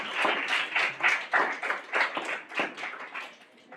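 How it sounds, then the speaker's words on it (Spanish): An audience at a story reading claps in uneven bursts of hand claps that rise and fade over a few seconds, fairly close, with no speech over it. "para quien pido un aplauso."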